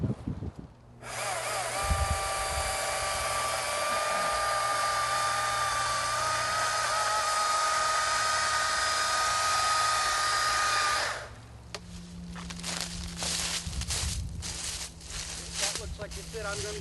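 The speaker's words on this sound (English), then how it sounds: "So what I'm going to do is actually stick my saw back in to my cut" A chainsaw held steady in a cut in wood gives a loud, even high-pitched buzz for about ten seconds, then drops to a lower idle with rattling knocks as someone talks nearby.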